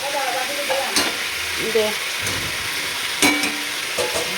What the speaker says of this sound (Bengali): এখন রান্না হচ্ছে মাংস